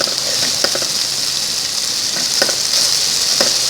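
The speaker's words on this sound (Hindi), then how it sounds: "मसाले को अच्छी तरह से भूनेंगे ताकि इसका कच्चापन ख़त्म हो जाए।" Masala spices fry in a pan for a village-style tori sabzi, giving a loud, continuous close-up sizzle with faint scraping stirs now and then.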